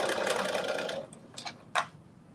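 A sewing machine stitches a pen tuck on joggers in a short continuous whirring run that stops after about a second, followed by a few faint clicks and taps.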